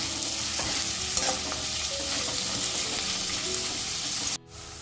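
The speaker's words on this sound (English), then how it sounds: "Now let us fry these onions until they are nicely brown in color." Sliced onions frying in hot oil for a prawn masala, a dense continuous sizzle with occasional stirring scrapes, close and loud, cutting off abruptly near the end.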